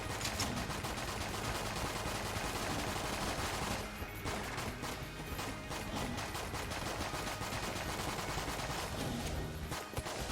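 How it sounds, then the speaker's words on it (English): The Patriot triple-shot gun fires continuously in Enter the Gungeon, a dense, loud barrage of rapid overlapping shots that barely lets up, with a brief dip partway through and no talking. "We're gonna be firing so many bullets that those skulls are gonna get destroyed."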